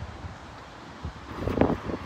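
Wind blowing over a dune cliff at Cape Cod, rumbling microphone buffeting that builds in gusts over a couple of seconds.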